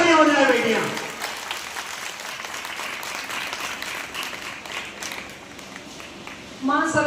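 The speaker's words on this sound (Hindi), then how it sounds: "तो आपके लिए जोर से तालियां हो जाए बेटियां।" Loud clapping from the audience at a Marwari Sammelan event at a government girls' senior secondary school in Mumbai, fading gradually under the end of a speaker's voice, before talk resumes at the close.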